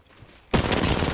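Gunfire in Apex Legends bursts in suddenly after a quiet moment, a loud, dense volley of shots that holds steady for the rest of the moment.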